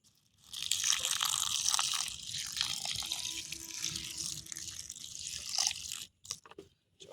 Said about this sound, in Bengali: চিড়েটা ভিজিয়ে নিই, জল ঢেলে দিলাম।